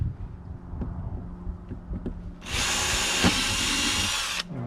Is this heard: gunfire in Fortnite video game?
no